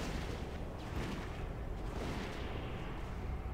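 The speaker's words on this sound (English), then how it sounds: "I don't want to be around when the mana leeches explode." Mana leeches exploding during a dungeon run in WoW Classic, heard as a continuous, dense roar of blasts and rumbling with no distinct gaps, steady and loud from start to finish.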